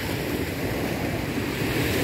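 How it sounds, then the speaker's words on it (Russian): Rough sea waves on the Adriatic at sunset churn in a continuous, loud wash of surf with wind buffeting the microphone, no voices present. "Сегодня море такое немножко штормит"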